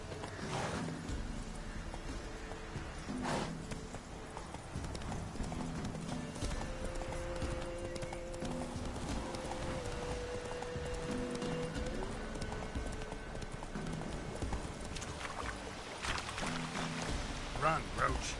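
Roach, a horse in The Witcher 3 video game, gallops with steady rhythmic clip-clop hoofbeats and occasional whinnies, set against a continuous game soundtrack and ambience.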